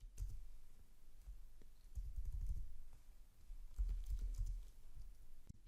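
Code is typed on a computer keyboard in quick bursts of soft key clicks with short pauses between, close and quiet, with no voice.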